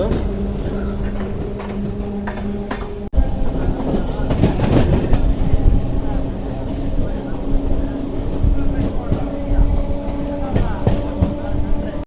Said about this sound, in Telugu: ట్రైన్ వచ్చేసి చంద్రగిరి నుంచి అయితే బయలుదేరిపోయింది